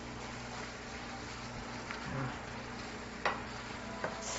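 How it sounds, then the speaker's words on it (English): Sliced bananas simmer in buttery syrup in a pan on a stovetop, giving a steady soft sizzle throughout, broken by a couple of sharp utensil clicks near the end, close and even in level. "Cooking bananas here on top of the stove."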